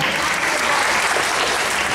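An audience breaks into steady, dense applause for a children's storytelling event, a continuous clatter of many hands clapping at even loudness throughout.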